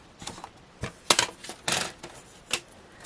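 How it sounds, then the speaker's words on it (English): Paper trimmer slicing the gold foiled edge off a craft card: a few sharp, dry clicks and scraping cuts in short bursts, close and fairly quiet, with no talking. "line up the gold edge on my trimmer and cut that off"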